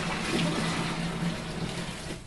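Hot water pours steadily from a 1.7-litre kettle into a homebrew beer vessel, a close, continuous splashing gush that eases slightly toward the end.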